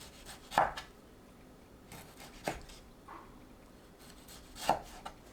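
Knife cutting tomatoes into bite-size pieces on a board, cored tomatoes for a cabbage geotjeori kimchi, with a few sharp separate chops spaced widely apart, fairly quiet and with no voices.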